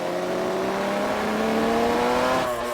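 The 500cc two-stroke engine of a 1989 Pepsi Suzuki RGV500 Grand Prix motorcycle revs hard and close, a steady high-pitched buzzing whine that holds for a couple of seconds before easing off.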